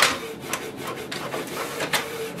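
Canon PIXMA TS3725 printer running a Windows test page, a steady mechanical rubbing and whirring with small rhythmic scrapes as paper feeds, close and moderately loud with no talking.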